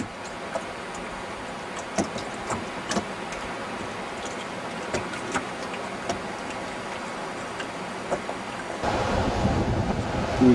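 Wind blows off a glacier at College Fjord, roaring in a steady rush across the microphone with scattered small ticks and knocks, then growing stronger and gustier near the end.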